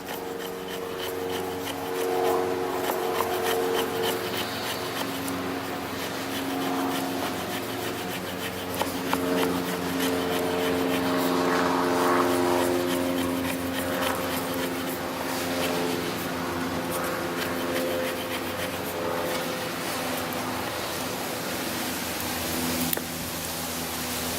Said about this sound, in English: The back of the knife spine is squared off and sharp, allowing you to process some nice fine shavings to create tinder to start your fire.